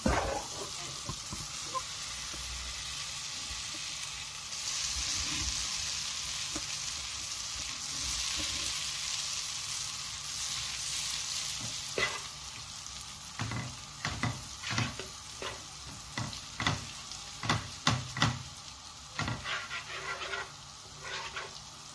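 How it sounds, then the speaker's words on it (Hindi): Butter heats in a pan for sheer khurma, hissing with a steady, soft sizzle that turns into a run of sharper clatters and scraping bursts toward the end, with no talk. "इसमें हम डालेंगे बटर, मक्खन। अच्छी तरह से इसको गर्म कर लें।"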